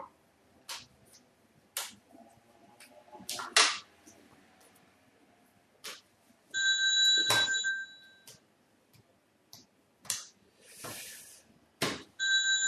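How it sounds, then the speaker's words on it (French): A phone rings in a studio during a live broadcast, with electronic tone bursts between scattered clicks and ticks, and the ringing pulses twice in longer spells, fairly loud and without any talk. "ce que vous entendez, c'est mon téléphone qui sonne"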